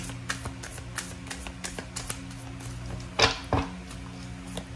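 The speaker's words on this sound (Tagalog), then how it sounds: "kumuha tayo ng isa pang baraha" A soft tarot card being drawn and slid, two brief papery swishes after a few light taps, quiet and close with a faint background hum.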